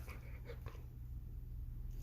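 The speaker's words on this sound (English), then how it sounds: "Can you hear my dog?" A dog whimpers close by, a few brief high whines early on, soft against a steady low hum, with no talking.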